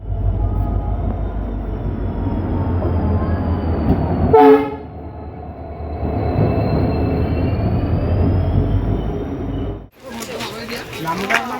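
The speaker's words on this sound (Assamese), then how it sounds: "এতিয়া ষ্টেচনত আছোঁ, ট্ৰেইনৰ ৱেইট কৰি আছোঁ" A train at a railway station: a steady low rumble of rolling stock, broken near the middle by a brief, loud, tonal horn-like blast, with a harsher burst of noise near the end. Voices are audible over it.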